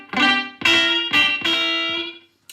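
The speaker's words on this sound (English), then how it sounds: "And this is the sound with the echo." Fender Vintera Telecaster electric guitar with slapback echo, four bright, loud notes played in a short rockabilly-style phrase, each smeared by a quick repeat, the final one sustaining and fading.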